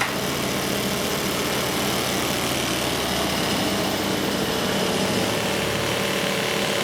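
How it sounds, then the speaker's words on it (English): Car engine running on hydroxy gas idles steadily with a constant, dense mechanical hum that holds unchanged throughout, with no talk over it. "now you'll hear a change in the engine when I flip the switch for the hydroxy on"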